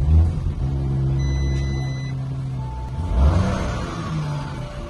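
An Audi car's engine, push-button started, hums at a low idle and then revs up in a swelling roar before settling, heard close with no talk.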